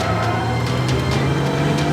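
A car engine drones and revs close by at speed, a steady hum with faint tire noise, as the vehicle is driven away fast; no talk.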